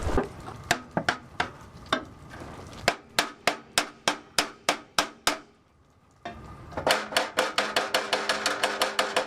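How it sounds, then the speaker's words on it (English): Repeated sharp hammer blows on corroded, stuck metal of slide-out steps, a quick volley, a brief pause, then a faster run of ringing strikes. "Need a bit of the persuasive hammer"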